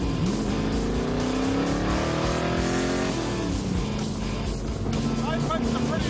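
A loud 1974 Chevy Corvette C3 engine revs and accelerates, a rising roar with climbing harmonics that drops back and settles into a steady rumble, close and continuous throughout.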